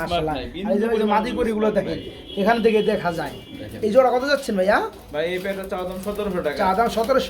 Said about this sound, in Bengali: এই এক জোড়া কবুতর গুলো দেখতে পাচ্ছেন বন্ধুরা